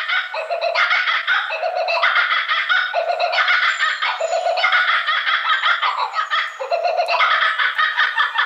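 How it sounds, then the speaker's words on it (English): Australian kookaburra calling, a loud, close laughing chorus of rising cackles that repeat in bursts without a break, with no other sounds. "That's the Australian kookaburra."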